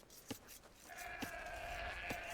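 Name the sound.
sheep bleating in video game Age of Empires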